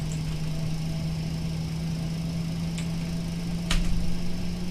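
Aircraft engines idle in a flight simulator game, a steady low hum with a constant drone near the bottom and broadband rumble, holding level for the whole stretch with a brief swell near the end.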